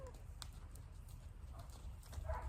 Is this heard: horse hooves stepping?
yes